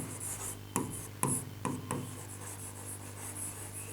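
Marker or chalk rubbing against a board during an English grammar class, a few short scratchy strokes standing out from a steady room hum, with no talking.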